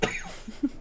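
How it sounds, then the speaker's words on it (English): A single sharp cough bursts out at the start, followed by a softer throat-clearing sound, close and alone with no talk. "Having a coughing fit."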